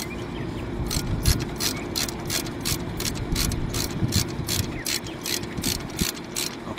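A ratchet clicks rapidly and evenly as it tightens a front brake caliper bolt on a 2011 Nissan Sentra, a close, steady run of sharp metallic ticks with no talking.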